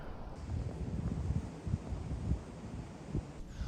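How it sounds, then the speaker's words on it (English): Strong gusting wind outdoors on a fishing trip, buffeting the microphone with a steady low roar and irregular thumping gusts throughout, with no one speaking. "that wind is definitely getting stronger"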